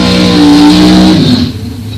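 A drag-racing dragster driven by Tom Gibson blasts down the strip at a bracket nationals event, a loud, close engine scream that cuts off sharply after about a second and a half, leaving a lower residual rumble.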